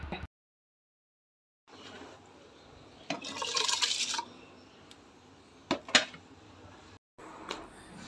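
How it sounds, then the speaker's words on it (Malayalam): Water sloshes and splashes in short bursts with soft clinks of a pot, close by and fairly quiet, separated by brief silences. "അരിയൊക്കെ ഒന്ന് കഴുകിയിടട്ടെ"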